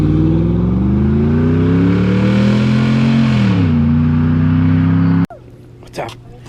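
A Ford F150 pickup fitted with a throttle controller revs hard and loud, its engine note climbing, dipping, then climbing again for about five seconds before cutting off, followed by faint rustling and a short bump.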